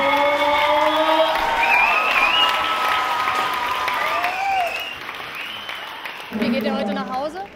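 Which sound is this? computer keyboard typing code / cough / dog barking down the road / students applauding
students applauding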